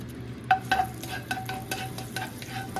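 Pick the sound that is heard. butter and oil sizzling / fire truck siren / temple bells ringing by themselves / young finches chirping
butter and oil sizzling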